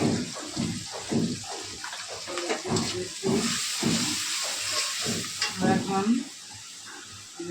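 Onions fry with salt in a pan, giving a loud, close hiss with a wet bubbling edge, as a utensil scrapes and stirs in rhythmic strokes.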